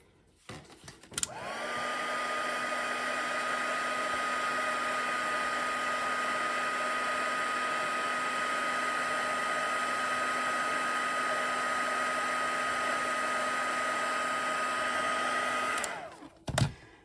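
Steady, close whirring blow of a heat embossing tool melting embossing powder on a stamped card, a constant hairdryer-like hum and hiss running about fifteen seconds between brief clicks at start and end.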